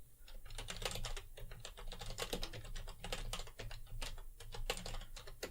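Rapid typing of a username on a computer keyboard while setting up Mandrake Linux Gaming Edition, dense close clacking keystrokes in quick irregular bursts without speech.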